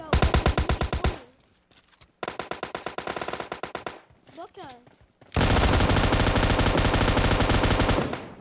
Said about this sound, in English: He's got an LMG.